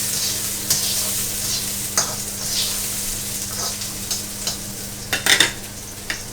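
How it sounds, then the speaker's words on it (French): Small vegetables sautéing in a pan for Thai street-food fried rice: a steady, close sizzle runs throughout, broken by occasional sharp scrapes and clacks of stirring, with no voices. "l'idée c'est de faire revenir les petits légumes avant"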